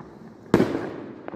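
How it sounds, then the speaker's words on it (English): A single loud firework explodes at night on 5th November, a sharp crack that rolls into a long fading boom, followed by a faint second pop. "I'm just trying to look for the fireworks."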